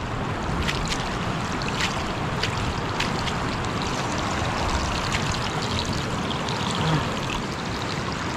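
Water rushing and splashing in a steady, strong flow from a hose into a gold placer sluice, loud and close, continuing without a break.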